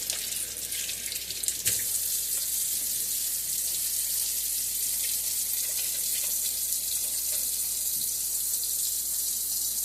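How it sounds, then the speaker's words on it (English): Cracked lobster tails are rinsed under a running kitchen tap, with a steady, loud hiss of water pouring into the sink and a brief clatter of handling near the start. "I'm fixing to wash them off just the same."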